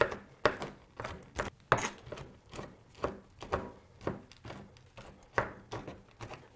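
Knife roughly chopping ingredients on a board for holiday soda bread, about a dozen crisp, irregular chops close by, with no talking.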